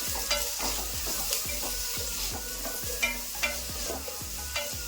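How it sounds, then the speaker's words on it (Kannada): Finely chopped onion frying in a pan with green chillies, a steady sizzle broken by repeated stirring clacks of a spatula at a regular pace, close up with no speech. "ಸಣ್ಣ ಕಟ್ ಮಾಡ್ಕೊಂಡಿರೋ ಈರುಳ್ಳಿ ಹಾಕೊತಾ ಇದ್ದೀನಿ."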